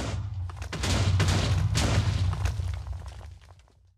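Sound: explosion in the video game Minecraft

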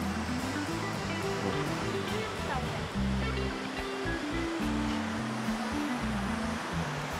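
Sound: mountain stream flowing below the road

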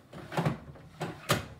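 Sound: integrated washing machine door being opened or closed

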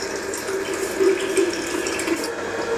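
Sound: water from motor pump filling a bucket

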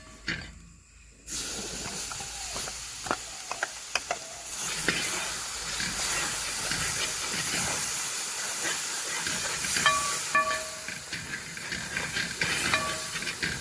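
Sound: blended onion and tomato paste sizzling in a pan

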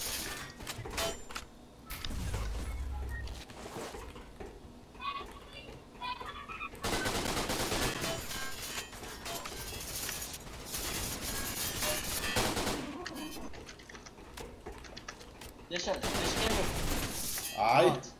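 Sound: gunfire in a video game

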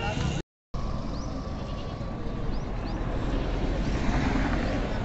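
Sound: goat bleating at a goat market

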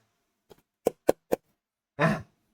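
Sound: metal tin box being tapped

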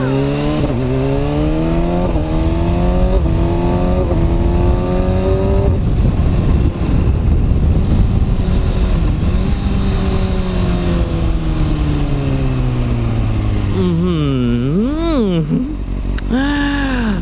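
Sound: Kawasaki ZX6R 636 motorcycle engine with Yoshimura exhaust

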